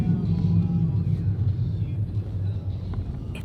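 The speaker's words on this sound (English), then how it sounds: "Only sound you can hear is from the car touching the road." An electric Tesla Model 3 ride in Kaohsiung, Taiwan, with a low, steady rumble of tyres rolling on the road surface and little else, close and continuous throughout.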